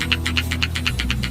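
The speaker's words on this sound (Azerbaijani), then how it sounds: "Telefonunuzun silkeləyəndə bu cür səs gəlir." A smartphone shaken by hand, its camera's optical image stabilizer rattling in a quick, even series of about ten light clicks, close and fairly loud over a low hum.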